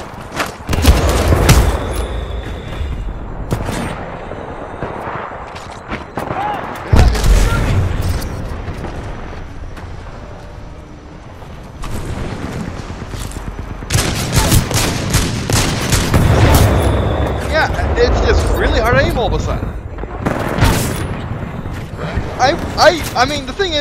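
Hand cannon shots in a Titanfall console match ring out as sharp, booming bursts in irregular clusters, with someone talking loudly over and between the gunfire.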